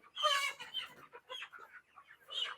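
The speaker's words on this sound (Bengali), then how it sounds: "এই যে দেখেন মুরগিগুলো" Chickens on a poultry farm cluck nearby in a string of short, uneven calls, with one louder squawk at the start and another near the end, no talk.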